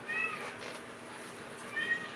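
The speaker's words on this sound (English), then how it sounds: "My cat's coming." A house cat meows loudly nearby during a sewing session, a couple of short cries at the start and again near the end over a quiet room hum.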